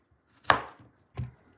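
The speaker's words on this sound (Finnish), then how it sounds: "Leikataan pieneksi palaksi." Peeled banana cut into small pieces on a board for a banana-cocoa smoothie: two distinct knife chops, the first sharper and louder, the second a little later and softer, heard alone.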